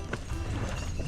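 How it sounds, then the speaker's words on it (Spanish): Donkey hooves clip-clopping along a path on Santorini, a few quick close hoof knocks over a brief stretch of outdoor noise. "Sí, el burro, mira, el burro pasa primero."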